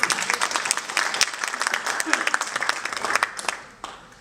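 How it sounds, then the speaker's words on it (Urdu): Dense, steady audience applause at an Urdu book launch ceremony, sustained for several seconds before tapering off at the end. "ایک اور شاندار تالیاں جناب عقیل اشرف صاحب کے لیے"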